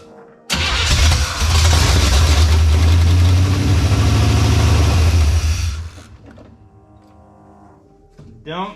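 A 1972 Chevrolet Nova engine given fuel and cranked until it catches, roaring up loudly and steadily for several seconds, then dropping away to a lower rumble before a brief rattle at the end.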